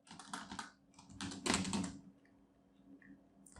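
Quick bursts of typing on a computer keyboard, clustered key clicks close by that trail off into near silence, without talk.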